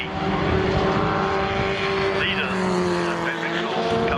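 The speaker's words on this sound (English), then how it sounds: "there's the newer car, the 1992 Van Diem" A 1992 Van Diemen Formula Ford 1600 race car circles Brands Hatch, its steady engine drone holding a sustained pitch throughout, loud and continuous, with other cars likely blended in the mix.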